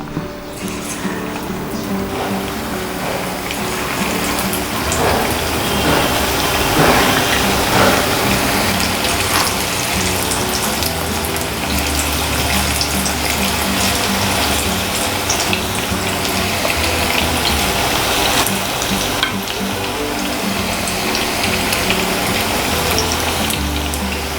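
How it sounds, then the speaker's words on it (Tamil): Marinated chicken 65 pieces fry in hot oil, giving a loud, continuous crackling sizzle that fills the whole span with dense bubbling hiss and no voices. "ஸோ இப்போ நான் சிக்கனை எண்ணெயில் போட போகிறேன்."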